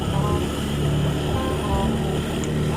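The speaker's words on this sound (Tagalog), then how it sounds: "Kailangan dire-diretso ang buga ng makina." A vehicle engine keeps revving hard while pushing through deep floodwater during a typhoon in Luzon, a steady loud rumble mixed with rushing, splashing water throughout.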